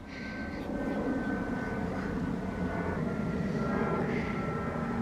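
An airplane passes high overhead outdoors, a faint, steady, broad engine rumble that holds evenly throughout with no talking.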